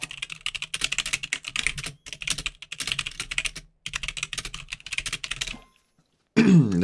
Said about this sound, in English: I hope my keyboard noises aren't too loud for you guys.